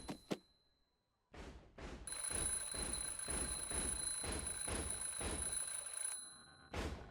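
An alarm clock in the Hello Neighbor FNAF mod video game rings steadily for about four seconds as a continuous trilling bell with a bright, piercing tone. A few sharp knocks and thuds come before it, and one more follows after.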